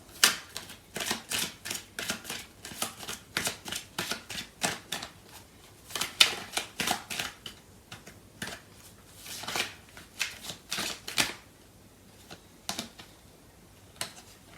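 Tarot cards being shuffled make a close, rhythmic run of crisp riffling clicks and flicks, repeated in quick bursts for about fourteen seconds and fading toward the end.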